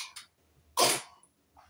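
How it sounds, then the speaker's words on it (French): A woman lets out a single sharp sneeze, a brief burst of breathy noise, preceded by a small intake of breath and followed by quiet. "Attention, je vais éternuer."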